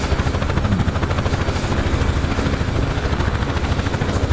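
UH-1H Huey helicopter in the combat flight sim DCS World, its rotor thumping in a loud, fast, steady rhythm over a continuous engine drone, close and unbroken.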